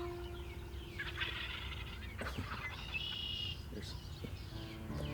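Wild turkeys gobble outdoors in a field during a hunt, a few rattling gobbles at moderate distance over low background noise and faint bird calls.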